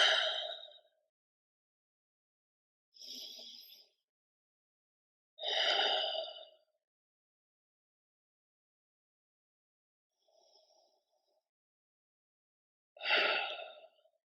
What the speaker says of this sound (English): A few more nice deep breaths in